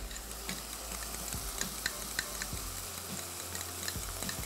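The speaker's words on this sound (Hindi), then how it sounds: "थोड़ा सा फेंट के, बहुत ज़्यादा ना फेंटें इसको" Half a pav of plain yogurt seasoned with black pepper powder and salt being whisked lightly in a bowl, a steady run of soft scraping and clicking strokes close by, with no talk.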